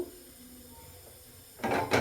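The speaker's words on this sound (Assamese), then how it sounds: "মই কেৰাহী উঠাই দিলোঁ" A kadai (wok) set down on a kitchen stove, two short close metallic knocks and scrapes at the end after a quiet stretch of low room noise.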